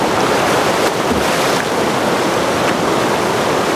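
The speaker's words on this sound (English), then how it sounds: "I'm gonna jump in the river." Cold river water rushes and churns loudly and close by as a person plunges in, a steady broadband wash with a few brief splashy surges and no talking.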